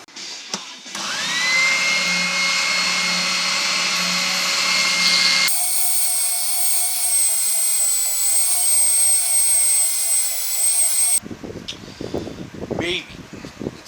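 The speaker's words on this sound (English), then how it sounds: "Spindle sander." A spindle sander runs with a loud steady motorized whir and high whine, its tone shifting partway through before stopping abruptly, followed by clattering handling sounds and a brief voice.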